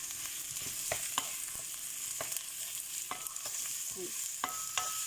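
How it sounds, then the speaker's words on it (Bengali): Onions frying in hot oil for a Bengali kala bhuna are stirred in a pan. A steady sizzle runs throughout, with scattered scrapes and taps of the spoon close by, and no one speaks. "তেল গরম হয়ে গেছে, আমি পেঁয়াজ দিলাম।"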